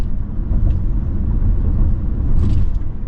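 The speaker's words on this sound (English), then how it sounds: "This 2-liter really gives this thing a nice punch when you want to take off and get down the road" A 2024 Ford Bronco Sport Badlands with a 2-liter engine pulls away in a low, steady rumble that builds slightly, heard from inside the cabin with no talking.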